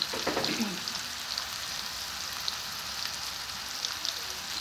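Khoiya fish sizzles loudly as it drops into a hot frying pan of reddened spice masala, a burst of crackling at the start settling into a steady, close hiss with small pops throughout.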